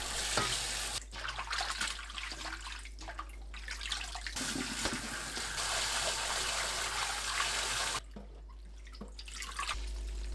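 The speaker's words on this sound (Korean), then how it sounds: "바로 꺼내서 찬물에 두세 번 헹굽니다." Blanched enoki mushrooms are rinsed under cold running water, giving a faint, close trickle and splash that breaks off and restarts a few times, with soft handling noises between the pours and no talking.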